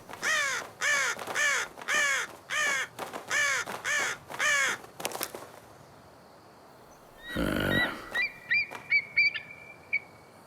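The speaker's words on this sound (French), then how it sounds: "les corbeaux repassent à l'attaque" Crows attack in an animated cartoon, giving a rapid series of about nine loud, harsh caws in steady rhythm. A rough flapping burst and a few sharper bird calls follow.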